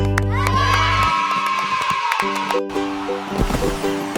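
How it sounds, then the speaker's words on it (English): Cheering crowd at a donkey cart race in an animated nursery rhyme, a lively wash of voices running through the whole stretch under bright tonal music with a sustained melodic line. "The race began with cheering sound"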